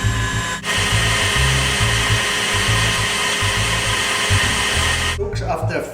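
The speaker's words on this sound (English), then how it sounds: "Looks after 3-4 minutes of whisking in high speed, it looks a bit like that." An electric mixer whisks eggs with hot sugar syrup at high speed for a glacé soufflé with Grand Marnier, giving a loud, steady whirring drone close by that wavers slightly and stops near the end.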